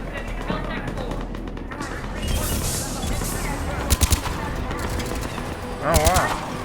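Gunfire in the shooter Mass Effect 3, a few quick sharp shots over a continuous noisy battle bed, with voices speaking over it.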